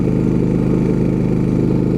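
Westinghouse 4,500-watt inverter generator running under load while a travel trailer's compressor draws power, giving a steady, loud, close mechanical drone with no letup and no talk.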